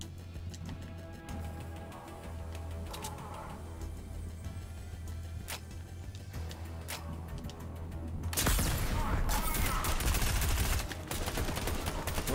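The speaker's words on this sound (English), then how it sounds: "Already hear sniper fire." Sniper fire cracks in a Fortnite solo match, sharp isolated shots over quiet in-game ambience, then a louder burst of gunfire and crashing noise near the end.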